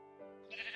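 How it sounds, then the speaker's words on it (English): A single short sheep bleat in the video game Hearthside, quiet and nasal with a wavering tail, heard alone. "Hello, sheep. Give me your wool."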